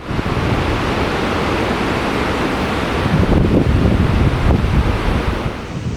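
Strong wind roars against a tarp at a campsite in the Wairarapa, loud and continuous, with gusty rushes and buffeting close to the microphone.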